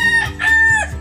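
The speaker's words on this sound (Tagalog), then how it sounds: "meron po tayong 4 na inahin tsaka isang rooster na iniwan" A farm rooster, kept with four hens, crows once up close, a loud drawn-out call with a short clucking break in the middle.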